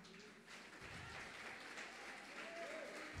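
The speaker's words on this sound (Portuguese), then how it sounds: "Pode continuar aplaudindo, ele merece." Sustained applause from a congregation filling a church, steady and even throughout, with no individual voices standing out.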